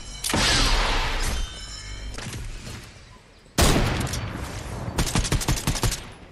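Rapid gunfire in the Fortnite battle royale game, loud bursts of shots with a sharp crack near the middle, then a quick run of repeated shots toward the end.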